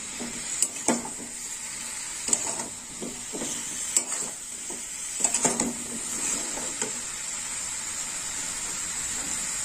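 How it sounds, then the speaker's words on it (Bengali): Cauliflower and carrot curry stirred in a frying pan: a steady soft sizzle runs throughout, broken by several scraping strokes of the spatula against the pan, close by and moderately loud, with no talking. "একটু নাড়াচাড়া করে নেবো।"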